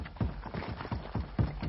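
Horse hooves clopping across wooden planks near a lakeside creek, a steady run of close, hollow footfalls with a few heavier knocks, heard alone.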